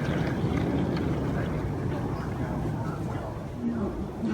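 Strong wind from approaching Hurricane Elsa buffets the microphone outdoors in a steady broadband roar, with gusty rumbling throughout and faint background sounds; no one speaks.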